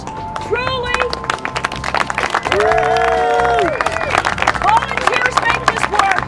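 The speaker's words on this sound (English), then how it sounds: "A round of applause for the kitchen." A crowd of trail-work volunteers in McLaren Park claps and cheers for the kitchen crew and crew leaders, with close hand claps, whoops and chatter mixed with voices.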